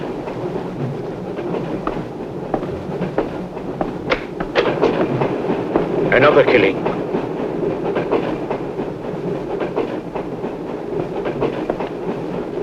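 A train running on rails in a 1972 horror film, a continuous rumbling clickety-clack under the scene, with brief voices and a sharp squeal-like burst partway through.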